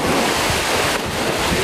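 Strong wind roaring across a microphone at a beach in Victoria on a hot day with kite surfers out, with breaking ocean waves beneath, a loud steady rush with no break.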